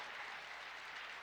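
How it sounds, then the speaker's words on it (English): Spectators at England's Strongest Man competition applaud a winning strongman with a faint, distant, continuous wash of clapping from a large crowd. "Give him a round of applause, Adam, for the win."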